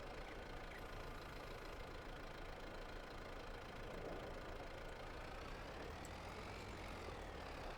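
A four-wheel drive tractor engine in Farming Simulator 22 ripping up a field, a steady, dense low rumble with a constant mechanical drone, continuous and close throughout, with no talk.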